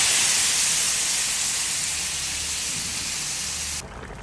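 Coconut milk simmering with string beans and squash in a hot pan for Filipino ginataang gulay, a steady close hiss and sizzle that runs on alone, then drops away sharply near the end.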